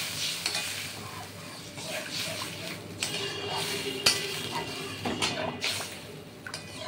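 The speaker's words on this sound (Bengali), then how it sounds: "এবার আমি ডালটা ধুয়ে নেব। এই জলটা দিয়ে আমি ধুয়ে নেব।" Mung dal rinsed with water in a kitchen pot: close, continuous swishing and stirring with scattered clinks of utensils against metal, steady and moderately loud, no talking.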